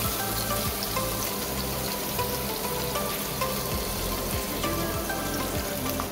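Mustard seeds, cumin, curry leaves, asafoetida and two finely chopped medium onions sauté with turmeric in three tablespoons of hot oil, giving a steady, close, dense sizzle and crackle with faint stirring throughout.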